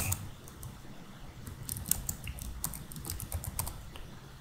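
Keys on a computer keyboard are typed in quick, uneven bursts, faint and near, with no talking.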